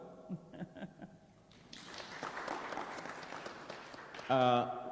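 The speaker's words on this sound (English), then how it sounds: "it deserves a clap" Scattered audience clapping rises at a startup summit session during Kenya Innovation Week, a modest burst of claps following speech and fading as a voice cuts back in.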